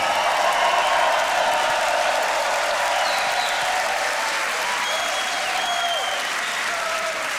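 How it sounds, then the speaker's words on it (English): A large crowd at a beatbox battle event applauds and cheers loudly and continuously, with sustained clapping and whoops that slowly taper slightly over several seconds. "Beatness, Rhythmite, make some noise for Barry."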